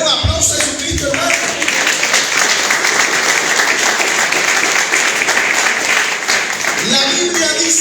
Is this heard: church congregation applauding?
yes